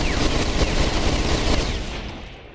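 Rapid bursts of Bodark weapon fire in Ghost Recon Phantoms, a loud, dense volley of close shots that trails off near the end.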